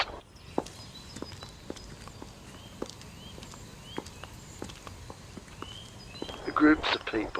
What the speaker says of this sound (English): shoes that sound like flip-flops